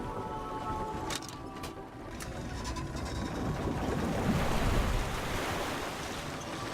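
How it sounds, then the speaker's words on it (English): Water rushing in to flood a chamber in Myst 4 Revelation, a steady, swelling surf-like roar that grows louder toward the middle and holds, heard alone with no talking. "Okay, we can hear it flood."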